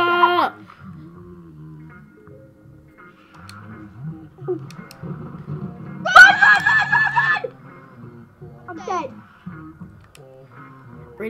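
A killer character in a video game gives one loud, harsh scream midway, set among game sounds and chatter, with people talking and laughing around it.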